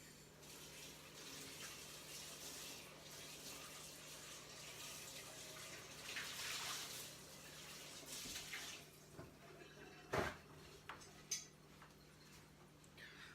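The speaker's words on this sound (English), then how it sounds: "and then you rinse it out" A cast iron pan is rinsed under a running tap, a quiet, steady rush of water with a few short clanks and splashes near the end.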